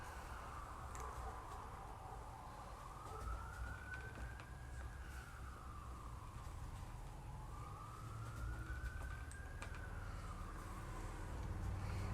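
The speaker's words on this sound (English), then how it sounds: "The fire trucks are going by" Fire truck sirens pass by, wailing in two slow rising-and-falling sweeps over a steady rumble of traffic, fairly distant and even in loudness throughout.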